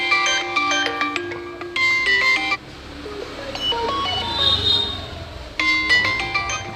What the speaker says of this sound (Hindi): अब रिंगटोन अब सुनना आवाज़।